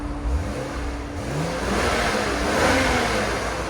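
A 2012 BMW 535i's 3.0L inline-six on its stock exhaust gives one smooth, fairly quiet rev from up close, building and easing off over a few seconds with no talking.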